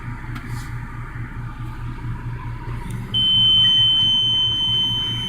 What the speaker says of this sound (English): The beeping.